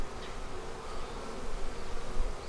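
Honey bees on a hive frame in winter in Georgia make a dense, close buzzing hum, steady and moderately loud, with no talking over it.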